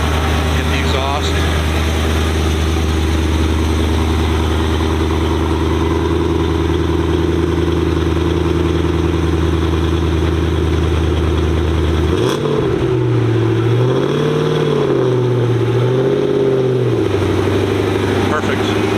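A 2006 car with a Stage 3 exhaust at a high school fundraiser car show, idling with a steady deep drone, then blipped through several quick revs that rise and fall near the end, loud and close.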